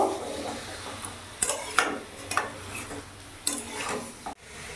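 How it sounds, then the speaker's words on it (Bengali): A spoon stirs coriander chicken in a pan with several close, scraping strokes over a light sizzle, ending in a brief pause. "ভালো করে নাড়াচাড়া করে নেব"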